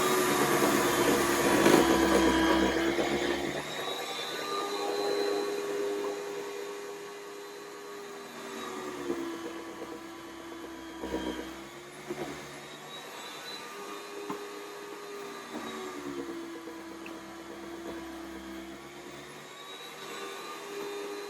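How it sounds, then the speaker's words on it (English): A cheap electric meat slicer whirs steadily while thinly slicing pork belly, a loud, close motor drone with shifting tone as the blade cuts and no voices. "See how nice the pork belly is sliced thinly."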